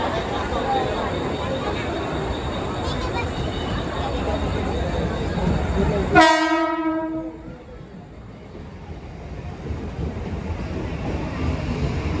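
Tutari Express on the Konkan Railway standing at a crowded station platform: a steady rumble, then one long, loud horn blast that fades into quieter background hum, with people talking nearby.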